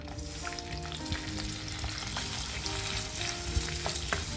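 Garlic sizzling steadily in melted butter and olive oil for a restaurant-style creamy mushroom soup, a dense close crackle with a few sharper pops and faint stirring, no voices.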